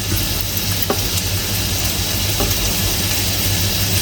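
Bacon lardons fry in a sauté pan, a steady loud sizzle and hiss running without a break, with a faint low hum beneath and no voices.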